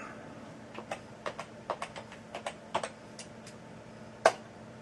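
Quiet keystrokes on a computer keyboard as a command is typed on a DOS machine, about a dozen separate clicks at an uneven pace with a sharper final tap, close by over faint background hum.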